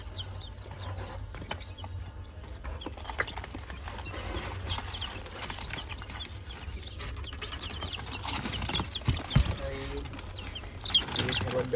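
Fayoumi hens and their newly hatched chicks cluck and peep steadily at close range, with scattered higher chirps over a constant low hum of a farm shed.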